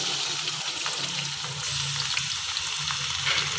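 Onion with ginger and garlic paste sizzles and fries in a pan for a vegetable pulao, a close, steady crackling sizzle with occasional stirring and no talk.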